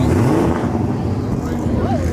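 An old Porsche's engine growls steadily as it goes past, close and loud, with a voice talking over the passing car.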